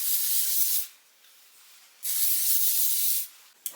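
Shine spray hisses from an aerosol can onto styled hair in two long bursts, close and bright, with a brief click at the very end and no talking.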